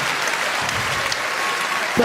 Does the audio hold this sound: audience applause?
yes